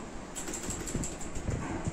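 Keys clatter on an HP GK320 mechanical gaming keyboard with blue switches, a quick irregular run of close, crisp clicks with no talking over it.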